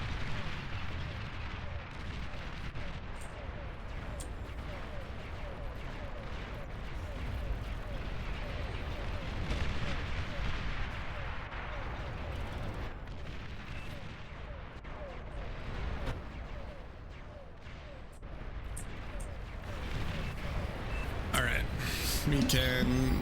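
Artillery fires in the real-time strategy game Beyond All Reason on a frontline map, with repeated deep booming shots and bursts over a constant, dense rumble of battle noise throughout.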